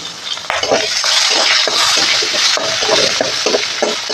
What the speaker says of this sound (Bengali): একটুখানি লবণ সামান্য একটু হলুদ দিয়ে আলুগুলোকে ভেজে নেব